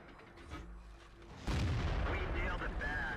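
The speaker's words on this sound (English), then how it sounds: "I shoot a Super Pershing in the side, which of course goes through" A tank gun fires once in World of Tanks, a heavy close boom that rolls on with a rumbling decay after a quieter stretch of engine hum, with game effects ringing afterward.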